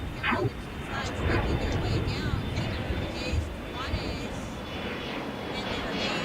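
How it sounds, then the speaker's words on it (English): A Qantas Boeing 787-9 Dreamliner airliner passing at LAX, its steady jet engine roar close and loud throughout, with a faint high whine riding on top. "This is Qantas Flight 95 from Melbourne."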